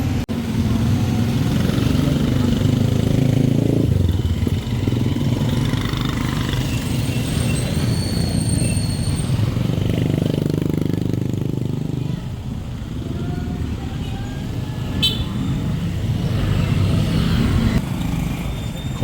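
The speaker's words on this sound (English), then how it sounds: "A quick tuk-tuk ride takes us to our accommodation" Riding in a tuk-tuk through Coron Town in the Philippines, with a continuous rumbling small engine close by and traffic and street noise around it throughout the ride.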